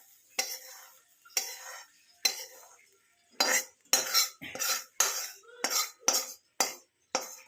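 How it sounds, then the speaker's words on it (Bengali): Fried eggplant and fenugreek leaves stirred in a pan, a utensil scraping and clinking against the metal in a run of about ten short strokes, faster toward the end, with a faint sizzle underneath and no talking. "এবার আমি এতে মেথিটা ঢেলে নেবো।"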